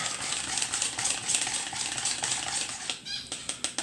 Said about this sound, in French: On va venir mélanger un petit peu. Voyez, un fouet très souple.